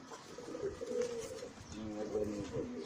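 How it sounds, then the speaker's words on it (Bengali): A young male silver Pankhi pigeon coos softly in a few low, throaty murmurs at close range, with faint background noise. "সো এই যে একটা সিলভার পাঙ্কির বাচ্চা, এটা নর।"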